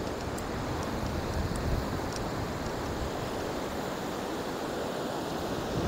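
Sea surf rolls steadily onto a beach in Florianópolis, Brazil, heard from about twenty metres away on a drizzly, overcast day as a dense, even wash of breaking waves with no voices.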